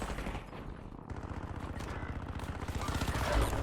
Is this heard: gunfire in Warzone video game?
yes